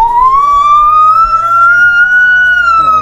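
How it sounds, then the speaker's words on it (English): A toy tornado siren gives a loud, rising and holding wail, steady and close, with a slight upward sweep before it dips at the end. "That's a big tornado siren."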